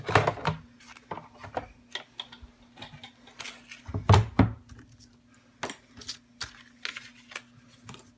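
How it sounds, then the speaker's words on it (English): A Big Shot die-cutting machine set backwards and cranked by hand gives a run of close, irregular clicks and knocks, with a heavier grinding thump in the middle as the plates roll through. "I put my Big Shot backwards, so I'm gonna have to roll it with my arm across the way here"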